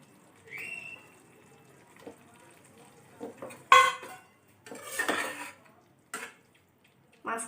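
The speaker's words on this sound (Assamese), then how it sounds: "মাছখিনি মিহলাই ল'ম" Fish pieces are gently mixed in a pan for a Komol Kat fish curry, heard as a few separate scrapes and clinks of a utensil against metal with quiet gaps between them.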